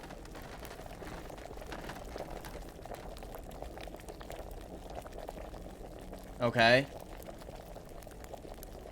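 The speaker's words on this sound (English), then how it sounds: "Nope, keep boiling." Liquid simmers and bubbles in an alchemy pot in Kingdom Come Deliverance, a low steady churn running throughout, broken by a brief brighter clink near the end, with a short spoken word over it.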